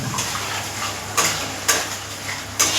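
Masala with chili and turmeric powder being stirred and fried for a tangra fish curry: a steady close sizzle with three sharp spatula scrapes against the pan, no voices.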